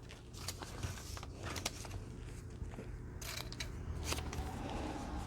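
Scissors snip through fabric scraps for belly bands at a craft table, a run of quick, close crisp cuts and rustles at moderate level with no talk.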